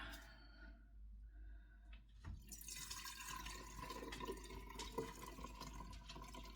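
Chicken broth pours into a pepperoncini jar, a soft liquid filling and dripping sound that starts after a quiet moment and continues faintly to the end.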